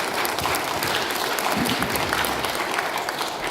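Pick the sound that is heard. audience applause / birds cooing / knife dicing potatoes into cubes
audience applause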